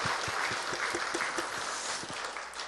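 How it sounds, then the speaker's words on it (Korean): A congregation applauds at a Friday church service, scattered hand claps that merge into a steady patter of clapping, moderately loud, with no voices over it. "우리 반주하신 분 축복하면서 박수 한번 하겠습니다"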